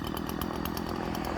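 A Husqvarna 137 chainsaw with a blunt chain idles and revs steadily while warming up, a loud, continuous close-up engine drone with no talk.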